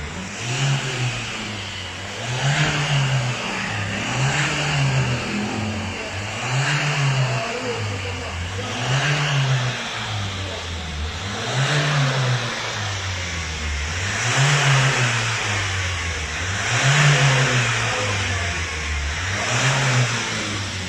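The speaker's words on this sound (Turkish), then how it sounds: "Gaz ver." A Nissan Qashqai diesel engine is revved repeatedly during particulate filter cleaning, in a steady cycle, each rev rising and falling about every two and a half seconds, close and loud.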